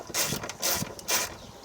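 Ratcheting wrench unscrewing nuts under a car's rear hatch while a rear wiper motor is removed, three short bursts of rapid clicking separated by brief pauses, close and fairly quiet.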